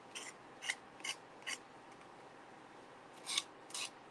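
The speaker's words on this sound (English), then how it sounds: "Just use your sander, a piece of sandpaper, and just get it off" Sandpaper rubbed by hand along the edges of a plastic craft piece, short faint scratchy strokes in two quick groups with a pause between, close and quiet.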